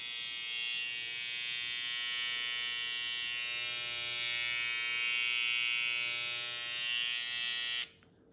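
Electric hair trimmers, a BaByliss GoldFX Boost+ and a Stylecraft Saber, give a steady high-pitched whirring buzz up close, running continuously for several seconds before cutting off abruptly near the end.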